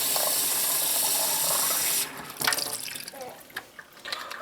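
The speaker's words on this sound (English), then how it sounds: "And you fill it right up," Water runs steadily from a tap into a squishy silicone water bottle for about two seconds, then cuts off, followed by a few soft drips, sloshes and handling knocks close by.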